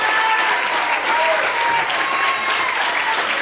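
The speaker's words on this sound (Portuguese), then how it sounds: "glorifica e aplauda o Senhor essa noite" A church congregation applauds the Lord during a service, dense sustained clapping from many hands filling the room evenly throughout, loud and close.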